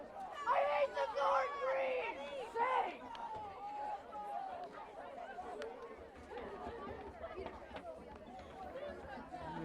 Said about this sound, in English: The crowd is heated.